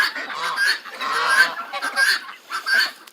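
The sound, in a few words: ducks and turkeys feeding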